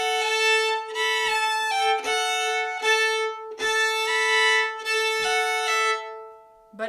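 Fiddle plays the Tommy Jarrell version of Sally Ann with a sustained open A drone ringing beneath the melody, in a steady run of bowed phrases separated by brief bow changes, close and clear with no talking.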